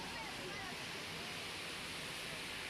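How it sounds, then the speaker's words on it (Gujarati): Heavy rainwater rushing down the stone steps of Girnar mountain in Junagadh, a dense, even roar of flowing water that holds steady and fairly faint throughout, with no distinct breaks. "ગિરનાર પર્વત પરથી પાણી વહી રહ્યા છે"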